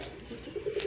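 Indian pigeons coo softly in a loft, low throaty murmurs building toward the end, close by and fairly faint with a little background noise.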